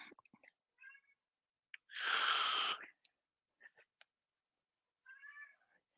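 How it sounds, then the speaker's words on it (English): A pet cat meows repeatedly in short two-syllable calls, with several brief, close vocalizations scattered around one longer, louder and breathier cry. "he's learned to make these two-syllable meows that sound like mama"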